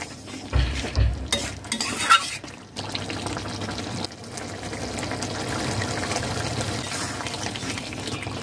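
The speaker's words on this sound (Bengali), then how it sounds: "ঘি দেব 1 চা চামচ। কেওড়া জল 1 টেবিল চামচ দিয়ে দেব। ভালো করে মিশিয়ে নেব।" Jackfruit curry with ghee and kewra water is stirred in a pot, with a few scraping and liquid clatters early on, then a soft steady bubbling simmer continuing quietly.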